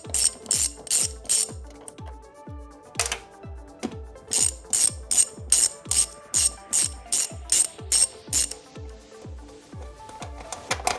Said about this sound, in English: take your 10 mil, remove these two bolts